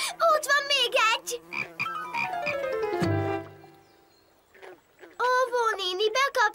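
Baby frogs in a cartoon croak in short, bouncy calls, heard clearly near the start and end alongside animated voices and a descending cartoon sound effect in between.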